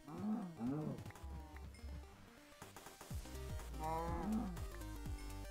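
Cows mooing in the video game Minecraft, several drawn-out, wavering moos close by, one after another over background game music and clinks.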